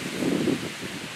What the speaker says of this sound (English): Whoa, it's windy. Blow my camera around a little bit.